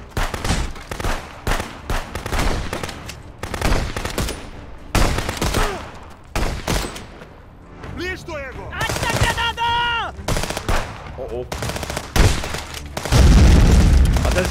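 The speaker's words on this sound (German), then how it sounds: "Gerade selber in die Luft gesprengt." In the video game Contraband Police, loud explosions and booming blasts go off in a rapid, irregular string alongside bursts of gunfire. A heavy, sustained blast closes the sequence.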